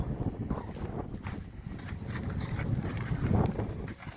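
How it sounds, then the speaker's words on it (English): Wind in the desert buffeting the microphone in a steady low rumble with gusty swells, no voices. "This wind is never ending here in the desert"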